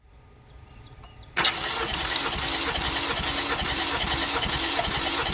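A car engine with a suspected blown motor is started with the key, a quiet background giving way to a sudden loud crank and catch, then a steady rough idle close up.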